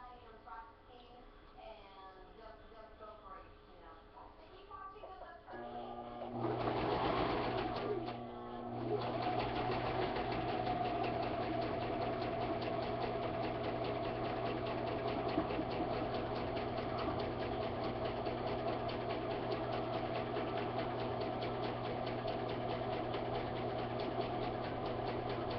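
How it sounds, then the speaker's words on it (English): A sewing machine runs steadily while someone sews, a continuous mechanical whirring hum that starts after a few seconds and carries on at a fairly even level, with talking nearby. "Try to sew as straight as you can"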